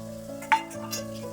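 Lentil fritters, pakora-style pieces of chana dal batter, fry in hot oil until reddish brown, giving a soft steady sizzle with one brief clink of a utensil partway through.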